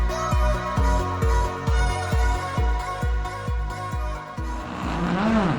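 Ford Fiesta Rally 2 rally car on a damp stage, its engine revving hard through a rapid series of upshifts, each a sharp drop in pitch, loud and close, before easing off near the end.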